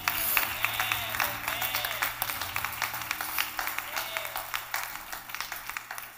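A congregation at a Baptist church Sunday worship service claps along in a lively rhythm. The sharp hand claps repeat steadily over a low sustained hum, with a voice speaking over them.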